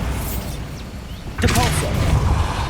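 A Bombarda blasting spell explodes in Hogwarts Legacy, a single sudden burst about halfway through that follows a quiet stretch, with a crackling, rumbling tail and a brief voice heard over it.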